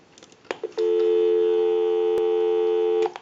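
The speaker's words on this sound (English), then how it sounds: "So we'll go ahead and give you some dial tone." A Western Electric 302 rotary desk telephone gives a steady, loud, continuous dial tone lasting a couple of seconds, preceded by a few clicks from the handset and ending with a click.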